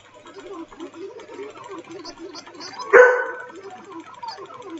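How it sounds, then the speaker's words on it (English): A pet dog lets out one sharp, close bark midway through, standing out against a quiet murmur of low voices in the room. "If you hear my dog, I'm sorry."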